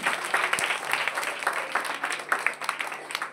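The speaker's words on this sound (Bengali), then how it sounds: "ওর জন্য জোরে হাততালি।" Loud, steady applause from an audience at a Bengali drama and song performance, continuous hand clapping with dense overlapping claps throughout, no voices standing out.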